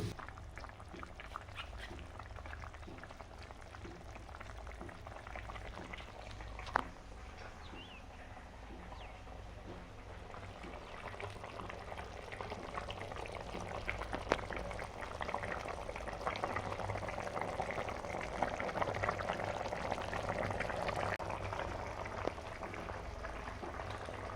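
Mutton simmering and boiling in a pan while being cooked into a dry fry, a steady bubbling hiss that builds slightly louder toward the end, close and continuous with no talking.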